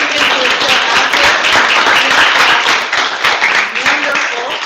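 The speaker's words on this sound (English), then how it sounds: "I think a round of applause for this awesome group." A crowd claps and applauds for a panel group, a loud, dense wash of hand claps held steady throughout before easing slightly at the end.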